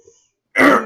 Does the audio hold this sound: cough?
yes